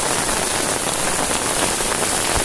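Rain keeps falling hard at night in Ratnagiri, a dense unbroken patter of drops striking an umbrella and the camera close by, with no talking.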